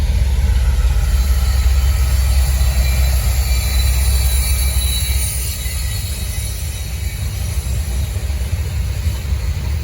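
Norfolk Southern freight train on the Charlotte District, two C6M locomotives leading and two ACE units as mid-train DPU, passing close by as a loud, continuous rumble and rolling clatter of wagons and wheels that eases slightly toward the end.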